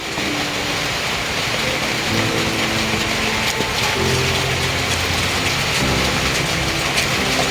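A heavy rainstorm with a cold wind pouring down in a steady, loud roar of rain on surfaces, with faint low rumbles under it and no one talking.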